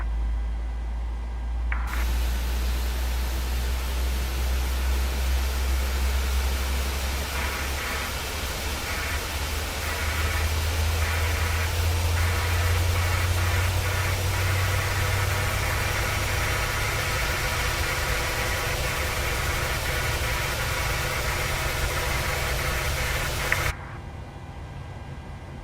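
A PMDG 737-600 engine spools up in Microsoft Flight Simulator 2020, a steady whooshing airflow with a low hum that rises in pitch midway, sustained for over twenty seconds before cutting off sharply near the end.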